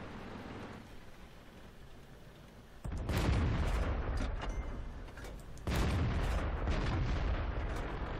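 Tank gunfire in the World of Tanks video game: two heavy booming shots land about three seconds apart, each followed by a sustained roaring rumble, after a quieter stretch of engine noise.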